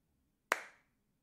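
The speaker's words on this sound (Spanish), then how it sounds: "Tengo que hacer el efecto de sonido del aplauso" One sharp, close hand clap, made as a slow applause effect during play of Resident Evil Village, ringing briefly then fading into quiet.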